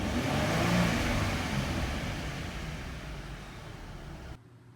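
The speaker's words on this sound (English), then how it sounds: "And then give the engine a few revs." A 2012 Ford Mustang engine is revved, a dense broad roar that swells early and then slowly fades before dropping off sharply near the end. Steady and fairly close, with no talk.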